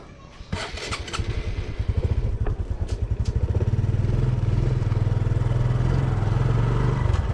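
Motorcycle used as a habal-habal taxi, its engine revving up with a rapid throbbing pulse and then holding a steady, loud idle close by, with a brief bit of talk near the start.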